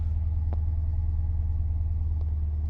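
A deep, steady rumble from a stock V8 Hemi exhaust idles close by, low and continuous, with a couple of faint clicks over it.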